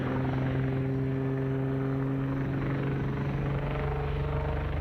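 Royal Navy helicopter at the RIAT 2002 air show at RAF Fairford, its steady rotor and engine drone loud and continuous with a strong low hum, no talking over it.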